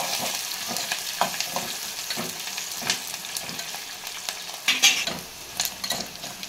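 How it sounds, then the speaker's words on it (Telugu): Onions and peanuts fry in a hot pan for upma while a spoon stirs them, giving a steady sizzle broken by repeated scraping strokes, close and moderately loud, with no talking. "ఉల్లిగడ్డ కూడా వేసి వేగుతున్నప్పుడు పల్లీలు, బాగా కలపాలి."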